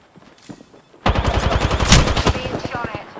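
Rapid automatic gunfire in a squad shooter video game erupts suddenly after a quiet moment, then runs as a loud, dense stream of close shots with a few scattered bursts just before.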